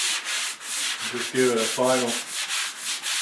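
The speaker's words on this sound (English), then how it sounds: "you can take a sanding sponge" Steady rhythmic strokes of a sanding sponge rub back and forth throughout while prepping a room for ceiling paint, with a person speaking briefly partway through.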